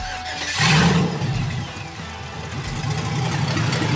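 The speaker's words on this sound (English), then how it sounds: "it starts up. It's idling a little bit low." An LS-swapped Mustang engine starts with a loud burst, then settles into a steady, slightly low idle, a continuous low rumble that stays close and even for the rest of the moment.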